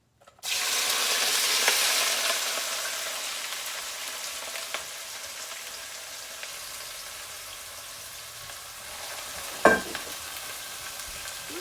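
Vegetables drop into warm oil and set off a loud, close hiss that swells at first, then settles into a softer continuous sizzle with a sharp clack near the end.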